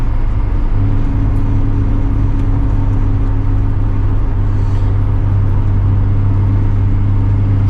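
A Mazda RX-7 FD driving on a cold day, its engine a steady loud low hum with a droning whir and road rumble, heard from inside the car throughout with no talking.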